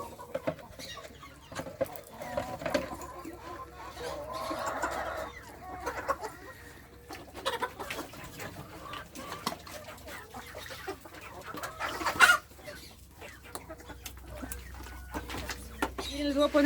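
Hens, chicks and broody hens cluck and peep softly around a farm yard, scattered intermittent calls over a quiet background with a person talking at times.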